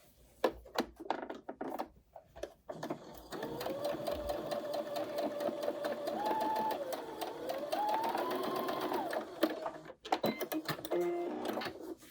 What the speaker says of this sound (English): head to the machine and run a little baste stitch to hold these together